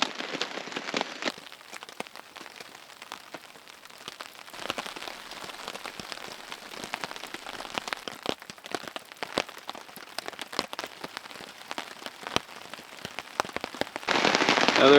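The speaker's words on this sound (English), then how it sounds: "it keeps raining harder" Steady rain patters on a surface in the Canadian wilderness, a dense close crackle of drops continuing throughout, with a louder rush of rain in the final second.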